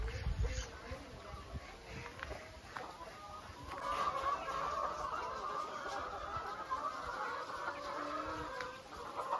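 A flock of chickens clucks steadily on a farm with small coops where eggs are gathered, the busy overlapping calls continuing throughout at close range.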